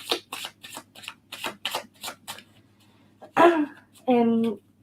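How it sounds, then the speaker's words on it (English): Tarot cards shuffled by hand in a run of quick, crisp riffling bursts at close range, followed by a couple of brief vocal sounds near the end. "we are going to shuffle these cards"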